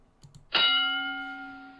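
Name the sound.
boxing round bell from a video game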